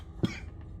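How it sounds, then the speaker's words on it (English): A single short, sharp cough, close and fairly loud, followed by quiet room noise. "cough triggered other coughs"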